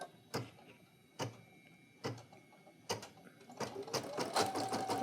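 A Brother PE800 or PE900 embroidery machine stitches nearby in quiet, regular mechanical bursts, first spaced apart and then a denser, faster run of clattering needle strokes toward the end.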